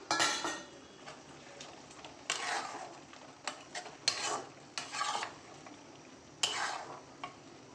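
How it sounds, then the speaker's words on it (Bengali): Potatoes and red amaranth greens being stirred in a pan for a poppy-seed dish, with repeated scraping bursts of a utensil against the pan, fairly close and irregular, over faint background noise. "এবার ভালো করে নাড়িয়ে চাড়িয়ে নিচ্ছি।"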